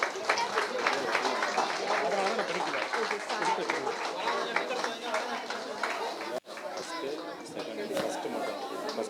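A crowd at a summer celebration closing ceremony claps and chatters, a loud blur of applause mixed with many voices, briefly cut mid-way.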